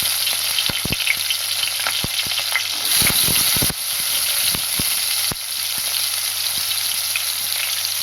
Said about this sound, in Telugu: ఇవి రెండు లైట్ బ్రౌన్ కలర్ వచ్చే వరకు వేయించుకోవాలి